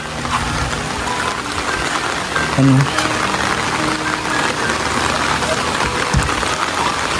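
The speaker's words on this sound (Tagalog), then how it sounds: "Grabe kasi yung ulan ngayon." Heavy rain pours steadily during a typhoon at a house construction site beside a rushing creek, a loud continuous hiss of water throughout, with a brief voice partway through.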